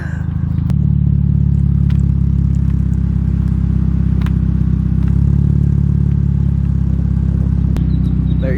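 Mazda Miata with a KBD bodykit driving slowly toward a driveway, a steady low engine drone and road rumble heard from a rider sitting on the back, with occasional sharp clicks and knocks over the hum.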